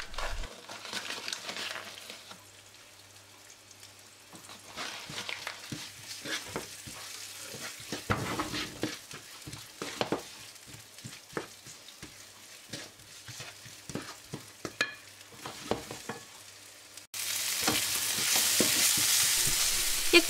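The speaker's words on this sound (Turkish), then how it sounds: "Soğanları ay şeklinde doğrayıp zeytinyağında biraz şeker, biraz tuz ilave ettikten sonra güzelce rengi dönene kadar hafif kavurdum." Moon-sliced onions are sautéed in olive oil with a little sugar and salt, giving a soft sizzle broken by frequent scraping stir strokes, then a louder burst of frying near the end.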